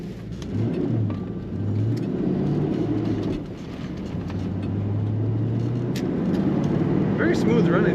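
A 1989 Ford Mustang GT 5.0 convertible with the top up and a 5-speed manual gives a steady, loud engine drone from inside the cabin, dipping briefly and then climbing again as it gets under way.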